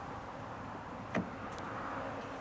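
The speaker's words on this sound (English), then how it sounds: "the door handles must pop out" Flush electric door handles on a Hyundai Ioniq 5 motor outward in one brief whirring pop, close by against a quiet, steady background hum.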